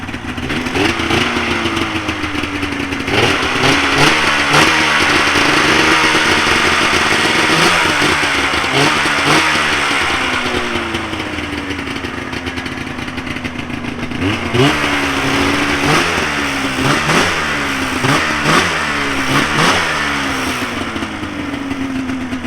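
A 1997 Polaris XCR 440 snowmobile engine runs close and loud, with a raspy two-stroke buzz that rises and falls through repeated revs over a steady idle.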